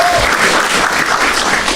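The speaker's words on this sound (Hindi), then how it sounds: "एक बार ताली बजाएंगे यार दोनों के लिए बहुत जम से" Loud audience applause for two contestants at a comedy dating show, a dense burst of clapping that fills the whole stretch without pause, close and uninterrupted.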